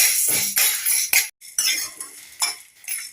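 Cucumber peel being roasted in a little oil in a pan, a spoon scraping and clinking against the metal in quick irregular strokes with short pauses, close and fairly loud.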